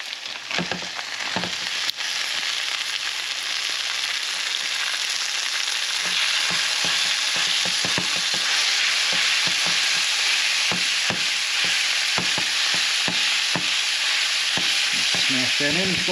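Ground beef smashed into a pan with browning onions, frying with a continuous loud sizzle and frequent crackling pops, close and without talk.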